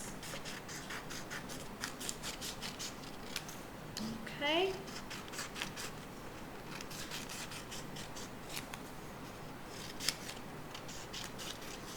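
Scissors snip through paper strips during a paper-weaving craft demonstration, a brief cluster of crisp cuts near the middle over faint room noise, with a short spoken word.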